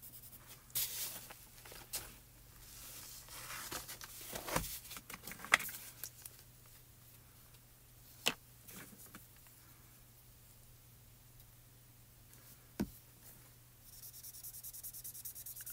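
Prismacolor colored pencil strokes scratch softly on paper in quiet, intermittent bursts over a faint steady hum, with a few sharper taps.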